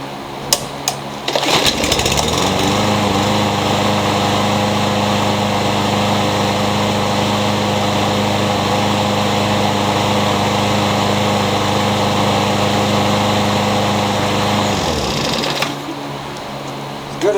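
A Briggs & Stratton small engine, converted from a primer-bulb type to Ready Start and fitted with a new air filter, starts with a pull and runs at a steady loud idle for about fourteen seconds before shutting off.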